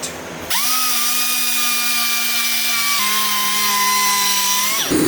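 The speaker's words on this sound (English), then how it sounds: "This is a 3-inch DA or orbital sander, and we are gonna use this with its 80 grit pad" A 3-inch dual-action orbital sander with an 80-grit pad whirs up and runs steadily with a high whine on truck paint, shifting pitch partway through before winding down, loud and close.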